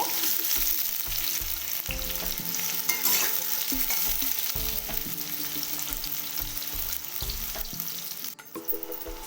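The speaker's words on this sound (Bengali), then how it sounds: "দু মিনিট মতো কুমড়োটাকে খুব ভালো করে লাল লাল করে ভেজে নেব" Pumpkin pieces fry in hot oil in a pan, a loud, continuous sizzle with scraping stirs throughout and faint tonal sounds in the background.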